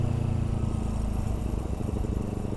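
Motorcycle engine idling at low RPM, a loud, close, steady low rumble with an even throbbing pulse throughout, no talking.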